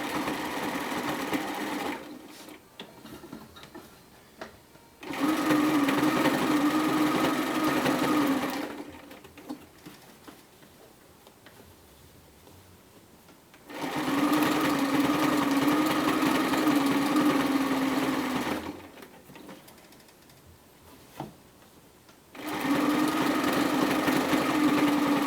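A sewing machine stitches a bomber jacket seam in three long, steady whirring runs separated by quiet pauses, loud and close with an even motor hum.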